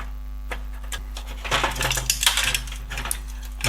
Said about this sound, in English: So now I should just be able to take out these screws.